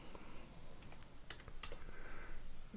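A number is keyed in on a computer keyboard in a short run of light, close keystroke clicks over a steady low background hum, with no talking.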